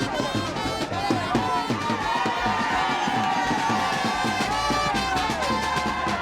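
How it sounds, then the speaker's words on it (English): Party supporters cheer and shout loudly at a Lagos for Lagos campaign rally in Ibeju-Lekki, Lagos, a dense continuous crowd roar with excited exclamations rising and falling throughout. "Cheering loud exclamation by awaiting members of the party who could not hide their joy."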